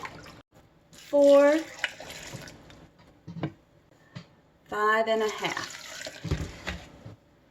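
Apple cider vinegar pours into a pot on the stove for a batch of dill relish, with a couple of splashy liquid bursts amid close spoken counting.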